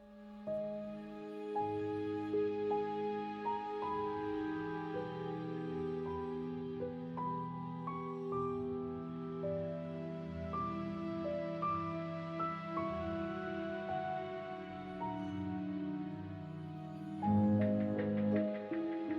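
Dark, brooding game music with sustained low tones and slow shifting melodic notes, steady throughout, swelling slightly near the end.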